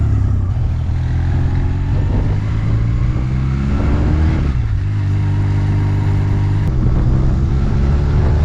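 A Honda CMX-250 motorcycle engine runs steadily and fairly loud while riding, with a low droning hum that dips briefly then holds its pace.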